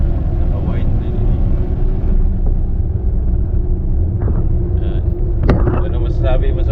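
Steady engine rumble and road noise inside a white Suzuki Hustler cruising on the road toward Zamboanga City, a continuous close drone with a few faint clicks and knocks.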